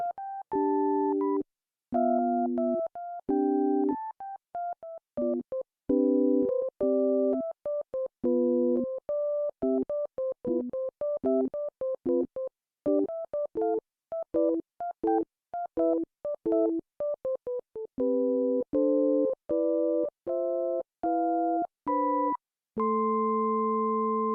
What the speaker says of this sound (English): So I'm going to adjust the ratio of those, and you'll hear higher pitch overtones from that side of the algorithm output.